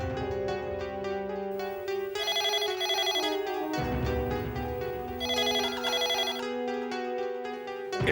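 A telephone rings while a call is placed to a police inspector in a Marathi TV serial scene: a melodic ringtone plays in repeating bright phrases for about eight seconds, steady and fairly loud, with no talking.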